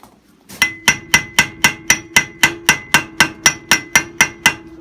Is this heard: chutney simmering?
no